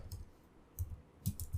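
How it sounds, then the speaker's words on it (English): Light clicks from typing a short command on a computer keyboard, a few soft keystrokes in small clusters over a low hum, close and faint. "Let me clear the screen first by typing CLS."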